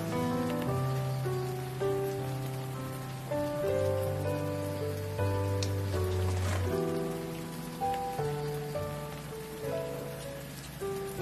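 Rain falls in a steady, even patter under a soft melodic music score, with no voices.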